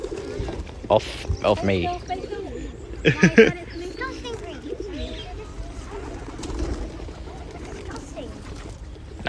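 Pigeons coo in low, rolling calls close by while wings flap in a few brief bursts, on a London street with someone talking over the birds.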